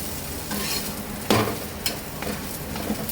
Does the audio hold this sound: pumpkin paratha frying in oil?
yes